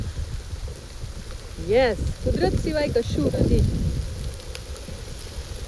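The first rain of the season falls in a steady outdoor hiss, with a low rumble running underneath. Someone talks briefly over the rain.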